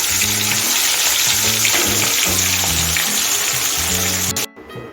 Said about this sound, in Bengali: আগের থেকে নুন হলুদ মাখিয়ে রাখা মাছটা দিয়ে দিচ্ছি